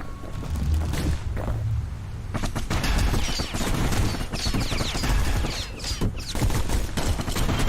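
Enemies firing in the action game Bastion, rapid bursts of gunfire and crackling impacts layered over a dense, loud game soundscape with booming low rumbles throughout.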